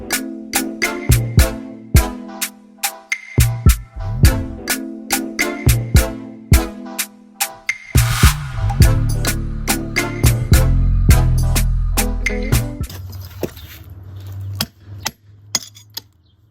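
Sharp metallic hammer taps strike a stuck CV axle shaft on a Honda CR-V, a close, loud series of ringing blows in an uneven rhythm, followed by heavier clanking and scraping as the part works loose.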